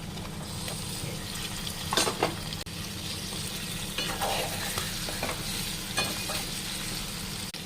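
Fish fries in a pan with burnt-onion paste, fenugreek leaves and turmeric, giving a steady close sizzle throughout, with occasional stirring scrapes and light utensil clinks on top.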